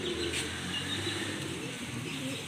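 White racer pigeons coo softly and repeatedly outdoors, low murmuring calls blended with steady background noise.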